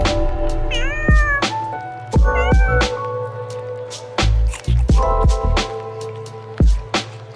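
Several cats meow in turn, with rising and falling calls repeated close by over steady background noise, a few of them drawn out into caterwauling wails.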